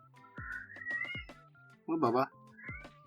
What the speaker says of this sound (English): my kitten in the background